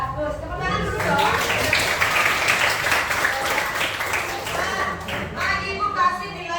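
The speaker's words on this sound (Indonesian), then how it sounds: "Tepuk tangan dulu dong." Students clapping their hands in a classroom, a burst of quick clapping that swells and then fades, with children's voices talking over it.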